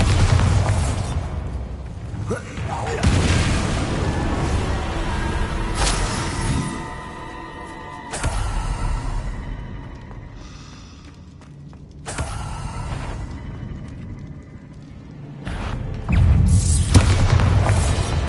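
Bombarda blasts burst in Hogwarts Legacy combat, several booming explosions with rumbling tails and crackling debris, loud and close, spaced across the stretch with no talking.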